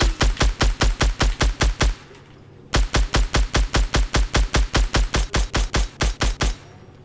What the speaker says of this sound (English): I just got in like a triple gunfight